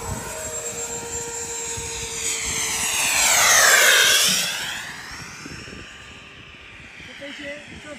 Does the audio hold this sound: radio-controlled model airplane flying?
yes